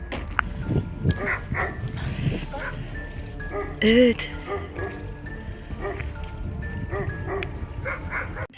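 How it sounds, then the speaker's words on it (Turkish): A dog barks a few times amid chatter from several people at night in a village, with one loud, close bark standing out in the middle. "Şurada köpek var. Isırır mı?"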